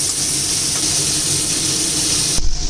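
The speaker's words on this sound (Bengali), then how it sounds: "দেখো চিংড়ি মাছগুলিকে এখন একটু ভেজে নিচ্ছি হলুদ আর নুন দিয়ে।" Small shrimp fry in oil with turmeric and salt, a steady close hiss and sizzle that drops away sharply near the end, with no talk.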